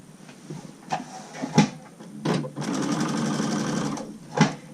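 A sewing machine stitches a quarter-inch seam on a PPE face mask, first in a few short bursts, then in one steady run of about two seconds and a final brief burst, close and moderately loud.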